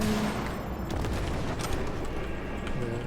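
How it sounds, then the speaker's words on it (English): Dense, continuous rumbling with rapid bursts of booming and crackling blasts, a steady barrage of explosions in the game Cyberpunk 2077, loud and unbroken throughout. "Lovely, wonderful, pleasant explosions going on in the back."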